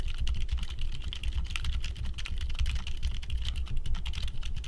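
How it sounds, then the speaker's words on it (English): Silent Frozen linear mechanical keyboard switches being typed on produce a rapid, steady stream of soft, muted clacks, close up and alone. "Here's the sound test."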